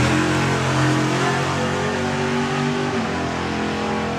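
A drag racing car's engine roars continuously during a run at the STP National Finals, loud and sustained with a rich, steady harmonic drone and slight shifts in pitch.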